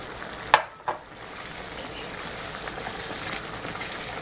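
Leftover liquid is poured into a pan of keto pork chops in mushroom cream sauce: two sharp knocks against the pan, then a low, steady sizzle and bubbling that carries on quietly.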